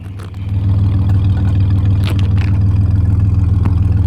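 Supercharged engine of a Holden VT Calais idling loud and close with a deep steady throb, then held at a low rev with a few light rises but no big blips.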